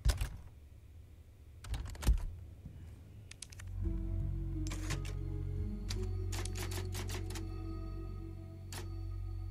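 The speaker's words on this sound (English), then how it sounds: "Oh, nice, a typewriter." Typewriter in the video game Resident Evil 4, heard as a few sharp, separate key clacks over a low steady ambient drone, some spaced out and others in quicker bursts.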